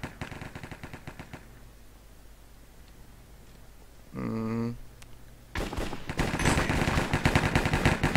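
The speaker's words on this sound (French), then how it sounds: "ça tire un peu autour de moi" Gunfire in the blocky shooter game Cops and Crims, with rapid automatic bursts at the start, a brief tonal game chime midway, then sustained loud fire near the end.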